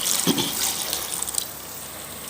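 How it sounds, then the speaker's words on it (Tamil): Half a litre of water poured from a grinder jar into a pan of tomato kuzhambu, a continuous soft splashing hiss at moderate loudness, heard alone without talk. "அந்த ஜார்லேயே ஒரு அரை லிட்ரு தண்ணி நான் ஊற்றிக்கிறேன்"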